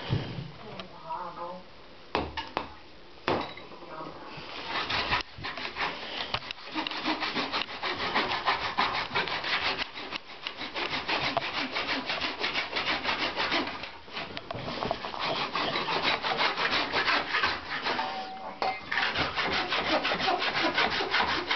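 A handsaw cuts through wood for about twenty seconds in steady back-and-forth rasping strokes, close and loud, with brief pauses and occasional voices in the background.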